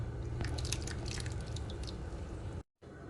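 Pinto beans cook in a pot of boiling water, bubbling and popping in a dense, close, continuous burble that cuts off abruptly near the end before resuming briefly.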